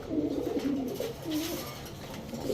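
Chinese Teddy pigeons standing in a loft coo in low, rolling phrases that repeat steadily, near and clear, with no voices over them.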